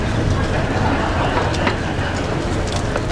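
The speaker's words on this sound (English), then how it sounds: "Also, all those BART trains, art trains." BART trains rumble past at an outdoor ceremony in San Bruno, California, a continuous loud roar of rail traffic with faint clatter, steady throughout and drowning out any background voices.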